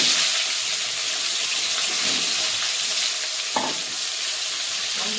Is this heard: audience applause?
no